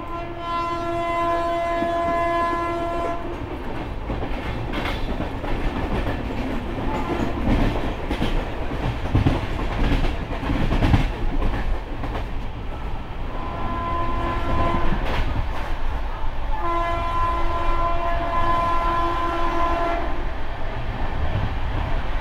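Humsafar Express train racing parallel with the Lalgola train on the Sealdah–Jalpaiguri Road route via Ranaghat, a loud continuous rumble with clattering wheels. A sustained horn blares at the start and returns later.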